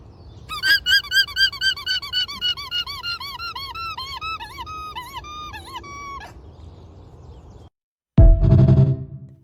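An alpaca lets out a rapid series of high, squeaky, toy-like calls, about a dozen pulsing squeaks over six seconds, then quiet, followed by a brief louder burst of noise.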